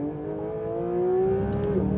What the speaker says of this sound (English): it revs so fast that I just hit the rev limiter